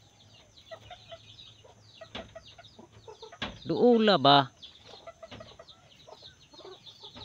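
A chicken clucks nearby and breaks into a loud squawking burst midway, with a person speaking briefly.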